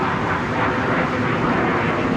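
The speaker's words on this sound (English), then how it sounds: "Jets are still playing out though. Up there in the clouds somewhere," A jet aircraft passes high above thick cloud, out of sight over the Anglesey coast, giving a steady, distant broadband roar that holds evenly throughout with no voices.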